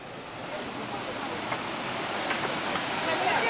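A small waterfall on the Ribeirão Maitá stream rushes in a steady broadband hiss, moderately faint and slowly swelling over a few seconds, with no other sound standing out.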